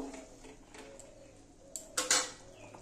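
A spoon stirs egg and potato fish-roe curry in a pot, with light metallic clinks and scrapes building to a few sharper knocks near the end over a quiet kitchen background.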